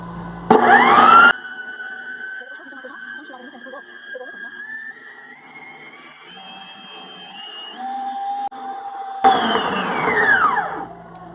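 An electric hand mixer whirs on its lowest speed while kneading homemade pasta dough, giving a steady motor hum whose pitch slowly rises and drifts, with louder bursts of handling noise at the start and end.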